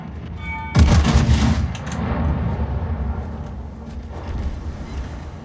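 Heavy naval gun salvo from an Italian battleship in World of Warships, a loud sudden blast that booms for about a second, then settles into a long low rumble that trails off.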